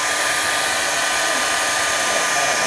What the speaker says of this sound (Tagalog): 1000 watts yung ating dryer